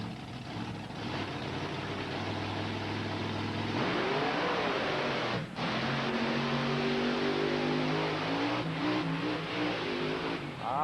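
A powerful engine roars and revs hard as a heavy truck launches, its pitch climbing and shifting, loud and continuous throughout.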